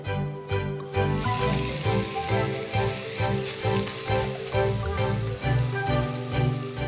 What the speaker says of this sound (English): So expect quite a bit of sizzling when I put it in.